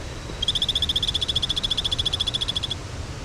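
A male toxic dart frog from Costa Rica calls with a fast, even train of high chirping trills lasting about two seconds, loud and close over a soft background hiss.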